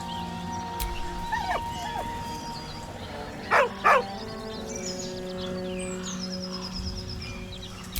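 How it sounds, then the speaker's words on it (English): A dog in Baldur's Gate 3 whines beside its owner's corpse, short plaintive whimpers and a couple of yelping bursts over a steady low game ambience with faint bird-like calls, moderately close. "With a deep, heartbroken whine, the dog bows his head"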